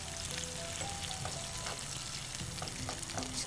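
Onions fry in a pan with chicken and garam masala, a continuous quiet sizzle with scattered crackles and pops and occasional stirring scrapes, no voices.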